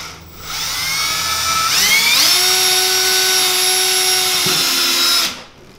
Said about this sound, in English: So we're just going to go ahead and drill and see where we're at.